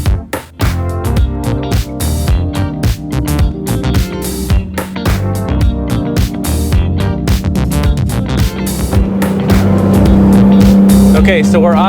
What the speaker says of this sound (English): as you can tell, the car's kind of loud. I put a new exhaust on it.